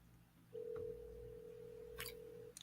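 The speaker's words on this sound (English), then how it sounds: "Your phone ringing" A phone rings with a single steady electronic tone lasting about two seconds, fairly faint, with a couple of brief clicks near the end and no talking.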